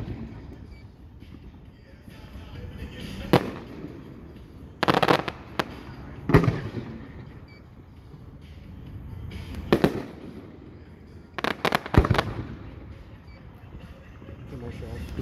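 Fireworks display after a Saltdogs baseball game, with booming bursts and crackling volleys at irregular intervals, heard from a distance over crowd murmur and nearby voices.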